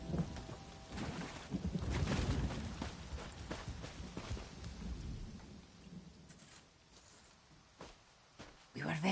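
A storm in The Elder Scrolls Online brings rolling thunder and steady rain, with loud rumbling bursts early that fade into softer rainfall, then sharp cracks near the end, while a voice talks over it.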